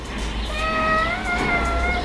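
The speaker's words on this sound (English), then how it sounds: "That's my cat." A pet cat meowing indoors, one drawn-out, rising and falling meow, loud and close, over a low background hum.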